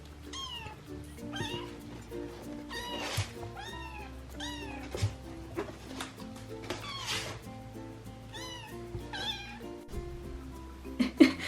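Several small kittens mew repeatedly in high, thin cries, close by, overlapping now and then over a low background hum.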